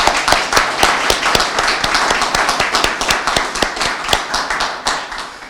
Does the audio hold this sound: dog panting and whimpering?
no